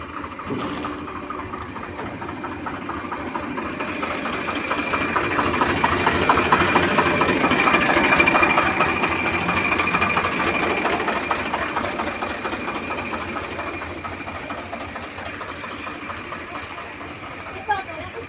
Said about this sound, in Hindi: अपन ने ट्रैक्टर और ट्रॉली को लगा लिया है और थ्रेसर करेंगे